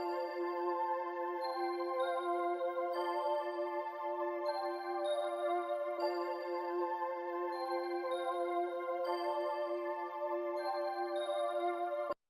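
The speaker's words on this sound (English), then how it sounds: "And this is how the pads sound." Sustained synth pads hold steady, layered chords that shift every few seconds for a flowing, continuous bed, loud and even throughout with no voices.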